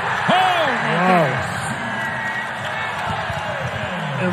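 Basketball arena crowd at a Boston College versus Virginia Tech college game roaring after a turnover, a loud sustained swell of cheering and whoops under a commentator's voice.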